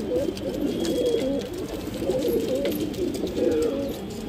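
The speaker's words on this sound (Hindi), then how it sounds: "ये जो सिंगल कबूतर है ना ये बहुत ही परेशान करते हैं मेरे को" Pigeons kept in a home loft coo in soft, throaty, repeated rolls that continue steadily throughout at close range.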